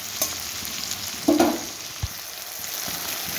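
Tomato cooks in oil over a low gas flame, a soft continuous sizzle with a brief louder stir and clatter near the middle, then a single low knock.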